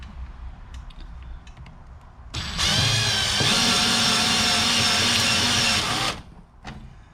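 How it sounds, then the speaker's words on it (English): A handheld drill spins up to drive a Beamnova wire stripping machine, a loud steady whirring drone that kicks in abruptly, runs for several seconds and cuts off, with quiet mechanical clicks before and after. "And now we're going to pull the drill trigger"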